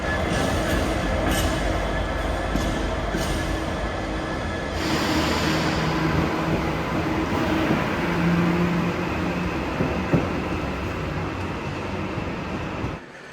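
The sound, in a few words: train at a station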